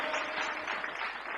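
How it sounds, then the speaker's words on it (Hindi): Applause from a seated audience at a Hindi poetry recitation, a dense, steady wash of many clapping hands lasting the whole short moment with no voices on top. "एक बार जोरदार तालियां बजाओ।"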